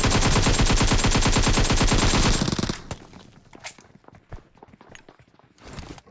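A long burst of rapid automatic gunfire in the video game PUBG, loud and dense, then sparse single shots and clicks with quieter pauses.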